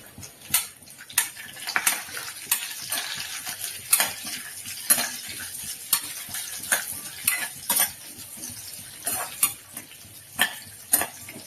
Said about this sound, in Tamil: அதோடு திராட்சையும் சேர்த்து நல்லா பொரிச்சு எடுத்துக்கலாம்.